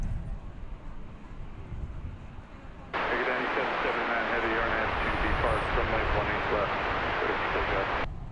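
An American Airlines heavy jet at Dallas Fort Worth Airport on runway 18 left, its engines rising abruptly into a loud, broad roar as it starts its takeoff roll, holding steady for about five seconds before cutting off, with wind noise and faint radio chatter around it.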